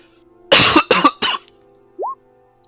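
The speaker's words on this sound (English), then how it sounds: "I'm nursing a cough at the moment" Three close, loud coughs in quick succession from one person, followed by a short breathy throat sound, in an otherwise quiet room.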